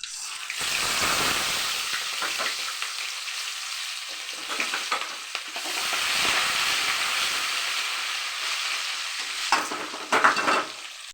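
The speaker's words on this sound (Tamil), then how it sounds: "கடுகு போட்டுக்கலாம். கடலைப்பருப்பு, உளுத்தம்பருப்பு, சீரகம்." Mustard seeds, chana dal, urad dal and cumin crackle and sizzle loudly in hot oil for a Tamil broad-bean kara kulambu, a continuous close frying hiss with scattered pops and brief stirring scrapes.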